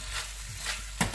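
Sweet and sour sauce with pineapple bubbles and sizzles in a pan with a soft, steady hiss, ending in a brief clink of a utensil against the pan, close and without talk.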